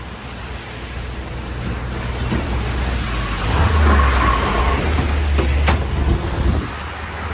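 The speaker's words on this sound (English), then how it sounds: "This is basically the first car of traffic. Let's watch it go by together." On a Siberian village street, a single car approaches and rolls past with a swelling low rumble that peaks midway and then fades, over steady wind-like outdoor noise.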